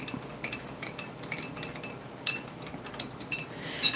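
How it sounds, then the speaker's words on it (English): A spoon stirs a cherry drink in a cup from a Lithuanian military ration, giving a quick run of sharp metallic clinks and taps against the container, close and fairly loud with no talking. "Now this cherry drink needs another stir, so I'm doing that."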